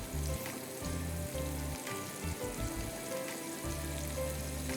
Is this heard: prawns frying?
yes